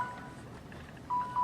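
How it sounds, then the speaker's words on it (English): A phone alarm sounds in a university math lecture room. After quiet room noise, two short, clear electronic beeps come close together near the end. "it's an alarm to remind me that I'm supposed to be teaching a review"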